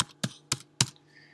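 Four crisp, evenly spaced keystrokes on a computer keyboard, close and clear in a quiet room with no talking.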